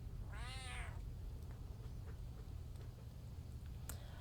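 A single drawn-out cat meow rises and falls near the start, fairly close, followed by a steady low hum and faint room noise with no talking.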